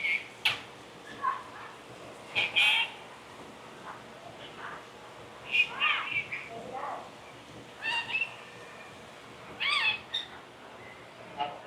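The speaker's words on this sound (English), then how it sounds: "Yeah, just a bunch of little birds." Small birds in a zoo bird sanctuary give scattered, high, thin chirps in short bursts every second or two, close by, over a low background murmur.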